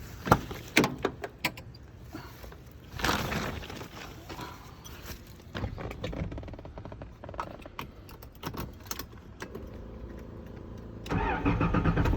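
A Nissan 300ZX Anniversary Edition cranks with clicks and whirring starter bursts after being reassembled, the engine catching and settling into a close, steady idle near the end.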